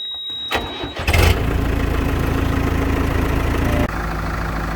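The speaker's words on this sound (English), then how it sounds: "I'm gonna go ahead and crank it up so it can run for a little bit" A New Holland LB75B backhoe engine cranks briefly, catches with a loud start, then settles into a steady, loud diesel idle that drops slightly in level near the end.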